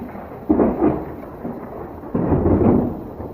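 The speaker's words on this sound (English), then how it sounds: "Did you guys hear that thunder?" Thunder rolls outdoors in two low rumbling bursts, each swelling and fading slowly, loud but somewhat distant, with a faint wash of rain beneath.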